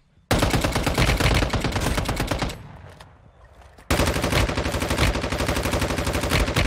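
Rapid bursts of gunfire from a weak, pea-shooter-like gun in a shooter video game, loud and continuous, with a brief lull in the middle before the volley resumes.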